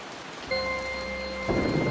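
Thunderstorm with steady rain hissing across surfaces, a low rumble rolling in and swelling toward the end, close and continuous with no voices.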